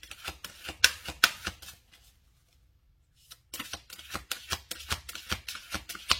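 A deck of cards is shuffled for a card reading: a run of crisp riffling flicks, a short silent pause, then another busy burst of shuffling, close and fairly quiet.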